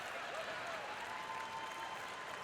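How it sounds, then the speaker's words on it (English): A curling arena crowd at a men's world championship match between Canada and Sweden claps steadily, a dense, even wash of applause at a distance that holds throughout with a faint whistle over it. "Crowd's getting a little louder, sensing that they're getting a little bit closer to that win"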